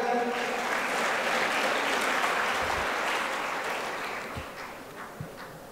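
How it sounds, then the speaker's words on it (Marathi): An audience at a felicitation ceremony claps in a loud, dense burst that gradually thins and tapers off, with a few scattered claps at the end. "सर्वांनी एकदा जोरदार टाळ्या होत्या"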